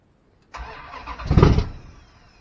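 A truck's 408 stroker V8 cranks and catches, building into a short rough surge of revs before settling toward a lower idle; a brief, fairly close start with no talk over it.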